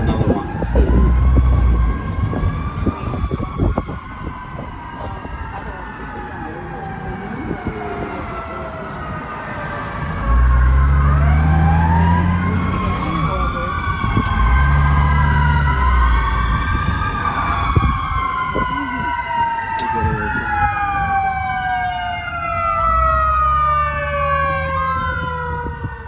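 Multiple emergency sirens from fire trucks and ambulances on a Hollywood street, wailing and sweeping in pitch as they pass, loud and close with rumbling engine noise and traffic beneath.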